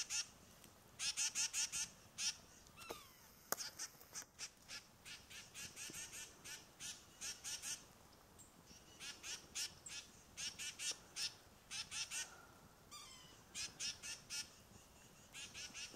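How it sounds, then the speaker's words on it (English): Unseen birds honking in a foggy, quiet forest, repeated bursts of nasal calls in quick runs of four or five, moderately distant, with pauses between volleys and no talking. "These birds are so cool."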